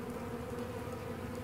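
A few bees buzz at a hive on a warm day, a faint, steady drone that holds briefly without pause.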